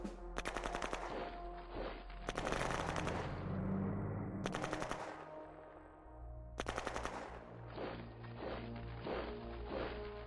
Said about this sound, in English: Just keep shooting.